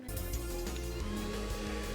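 A hair dryer runs continuously at close range, a steady whirring hum with a constant tone and no pauses.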